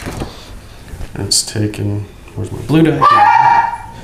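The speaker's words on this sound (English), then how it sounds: "Sorry about my dogs barking there in the background" Pet dogs barking and yipping indoors behind a tabletop board game, a few short excited barks rising in the later part, under close conversational talk.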